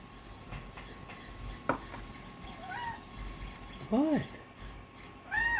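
A cat meows repeatedly, a few drawn-out rising and falling cries spaced apart, close to the microphone, while a person briefly speaks and a faint rumbling background continues.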